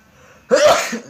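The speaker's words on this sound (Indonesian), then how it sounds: "Bersin lagi." A single loud, close human sneeze bursts out sharply after a brief quiet intake.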